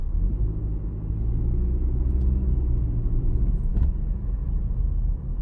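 Steady low road rumble inside a 2019 Nissan Rogue on a test drive, a muted, even drone of engine and tires heard from the quiet cabin with no talk.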